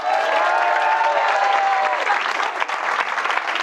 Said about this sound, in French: Applaudissements pour Thibaut.